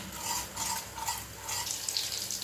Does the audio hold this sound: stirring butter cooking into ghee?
yes